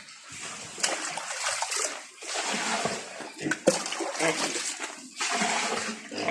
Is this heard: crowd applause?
no